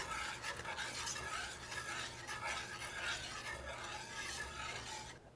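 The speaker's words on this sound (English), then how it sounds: "Now we want to stir well, making sure everything is in." A spoon scrapes and rubs steadily through rice, water and jambalaya ingredients in a pot, a continuous close rasping churn lasting several seconds with no talking, ending abruptly.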